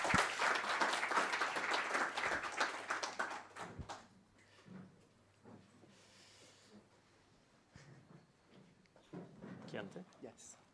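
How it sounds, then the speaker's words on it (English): At a programming conference session, an audience applauds the speaker Patrick in a loud burst of clapping that fades after a few seconds into quieter room sounds and scattered talk, with a smaller flurry of claps near the end. "let's give him a round of applause again"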